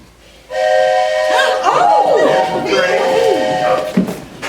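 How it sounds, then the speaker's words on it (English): A train's steady horn or whistle sounds for several seconds as it arrives, with voices and laughter mixed in over it. "Oh, here's the train."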